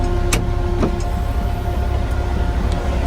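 A ROXOR off-road vehicle engine idles on a cold winter day, a steady low rumble with a constant hum and a couple of brief clicks or rattles over it, close and continuous.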